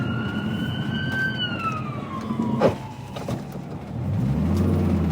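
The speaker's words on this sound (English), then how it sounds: "There is an ambulance. I'm pulling over." An ambulance siren wails nearby, its tone sliding downward as it passes, over the rumble of road traffic and engines.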